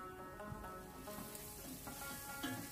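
Butter sizzles faintly in a pot while beef mandi rice is being prepared, a soft, steady crackle and hiss with no voices over it.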